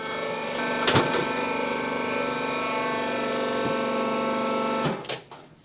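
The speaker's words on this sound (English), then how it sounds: "pop it onto the sole press. That squeezes it up." A shoe sole press squeezes a chukka boot with a steady mechanical whir and hum, bracketed by sharp clunks and hisses as it engages and releases.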